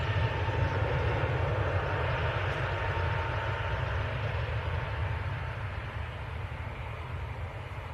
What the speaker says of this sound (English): more aircraft taxiing across